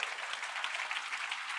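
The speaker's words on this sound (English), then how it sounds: "Shall we give Rayne a big round of applause" Brief burst of audience applause at a business talk in Singapore, even hissing clapping heard from a distance, fairly faint and unbroken.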